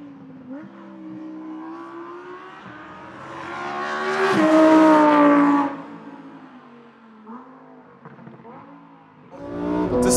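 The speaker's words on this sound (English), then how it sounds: "the thing that dominates the experience is still that big mid-mounted V10" A 2017 Lamborghini Huracan Performante's mid-mounted V10 climbs through rising revs, swelling loud mid-clip, easing off, then roaring up again at the end, heard close and without speech.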